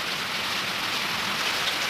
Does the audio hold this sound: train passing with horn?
no